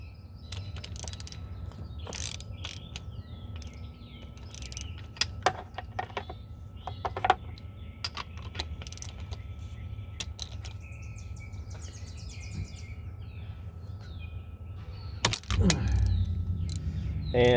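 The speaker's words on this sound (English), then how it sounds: "You're going to take your ratchet, put it on the plug," A ratchet removes a spark plug from a Wave Venture waverunner that had been submerged, with scattered metallic clicks and clinks over a low background hum and a louder clatter near the end.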